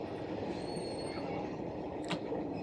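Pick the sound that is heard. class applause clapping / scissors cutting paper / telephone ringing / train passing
train passing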